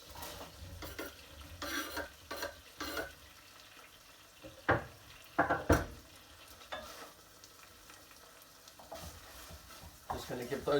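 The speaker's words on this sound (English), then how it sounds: "Just going to give those a stir and cook out for a couple of minutes." Onions and lardons fry in a pan, stirred in bursts with loud scraping clatters of a utensil against the metal over a steady close sizzle; no one speaks.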